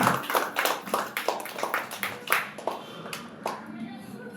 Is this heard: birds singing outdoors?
no